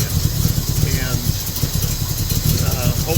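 A car engine fitted with a Holley carburetor idles, a steady low rumble close by that stays even throughout, with no rise or fall in revs.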